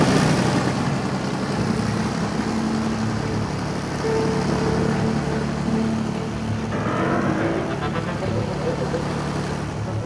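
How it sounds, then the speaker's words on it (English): A Hercules transport plane rolling down an old runway during an airport raid, heard as a steady droning propeller-engine hum that stays even throughout under a voice. "Meanwhile, the Hercules set off down the old runway."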